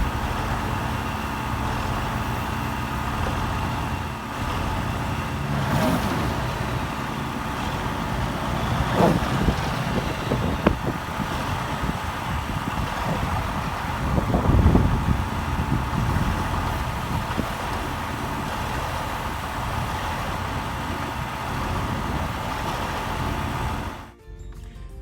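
A 1979 semi truck engine idles in cold weather, about 10 degrees, after sitting unused for 20 years. It gives a steady, rumbling idle at moderate loudness, swelling unevenly a few times before cutting off at the end.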